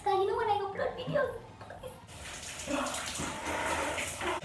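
A tap runs water over yarn braid extensions during washing, a steady rushing splash that takes over after someone speaks briefly at the start.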